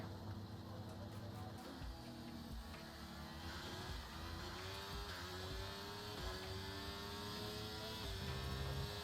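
F1 race car from F1 2023 at Mexico heading out onto the track, a continuous engine drone with rising pitch sweeps as it accelerates through gears, steady and moderately quiet.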